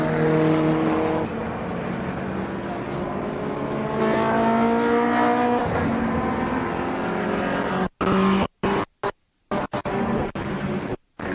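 Classic touring race cars roaring around the Brands Hatch GP circuit, a loud continuous engine drone with rising and falling revs as cars pass close by, ending in choppy bursts of sound.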